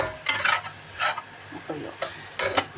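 Cauliflower garlic fried rice with lemon gets stirred in a pan, several short scraping strokes of a utensil against the pan over a faint sizzle, close and separated by brief pauses.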